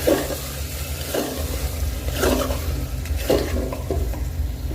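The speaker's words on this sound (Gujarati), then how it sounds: "અને નાખી દઈશું આપણે બટાકા બટાકા આપણે મોટી સાઈઝના જ કાપવાના છે નાના નથી કાપવાના અને સરસ આપણે આ રીતના મિક્સ કરી લઈએ" Large-cut potatoes and masala are stirred in a pan, with a spatula scraping and turning the mix in roughly regular strokes over a soft, continuous sizzle, close and fairly loud, with no talking.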